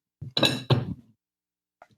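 Dishes clink in a meal of chicken korma eaten by hand, with two quick clattering bursts close by and a faint tap a moment later.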